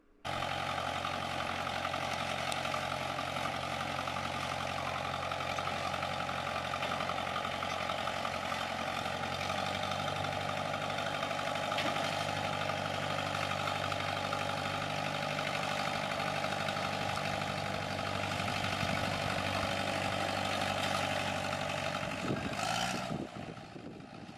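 A bulldozer levels a driveway and fills holes, its engine a steady, loud, droning rumble that holds unbroken for over twenty seconds before cutting off at the end.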